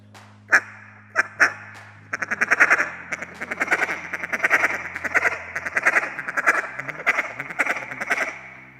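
Duck call blown to imitate duck quacks: a few separate quacks, then a fast, loud, rhythmic run of raspy quacking that keeps going to the end, close and alone.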